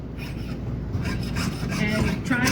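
A jeweler's saw cuts through silver sheet for an art piece with a steady, close rasping stroke repeated in an even back-and-forth rhythm, alone without talk.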